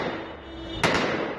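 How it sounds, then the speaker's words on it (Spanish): Gunfire from Taliban fighters controlling a crowd at a bank in Afghanistan: a single sharp shot cracks out midway over a steady background of street noise. "Los talibanes ponen orden a tiros."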